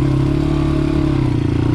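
A 2001 Honda XR80 dirt bike engine pulls steadily in first gear on a snowy, muddy trail, a loud, close, continuous buzzing drone with rough clattery texture and no voices.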